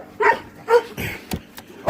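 A dog gives a few short, odd-sounding barks and yips in quick succession, close and fairly loud, with no talking over them.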